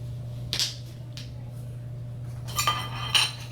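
Light metal clinks as a titanium lid and heat shield are packed into a soda-can pot cooking kit, a few sharp clanks spaced apart with a quiet pause between, close and fairly soft.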